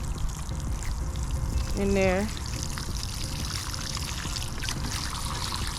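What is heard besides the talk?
water being poured into a planting hole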